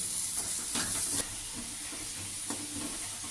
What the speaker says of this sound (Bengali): এবার আমি কুচনো পেঁয়াজগুলো দিয়ে দেবো